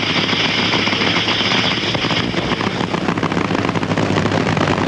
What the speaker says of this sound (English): Scusa gets off the line first, and explosion under the hood